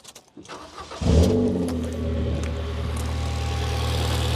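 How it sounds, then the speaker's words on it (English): A Ford Fiesta engine with a blown head gasket cranks and catches after about a second, then settles into a steady, rumbling idle nearby. "So, let's start the car up."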